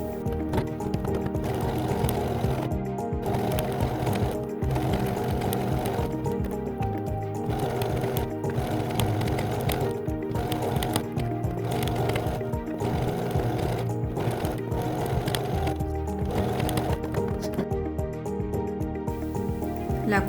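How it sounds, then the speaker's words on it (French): A sewing machine runs a straight stitch along the top of an elastic towel, a steady mechanical whir with continuous rhythmic needle clatter, loud and close, lasting the whole stretch without pause. "Et direction la machine à coudre."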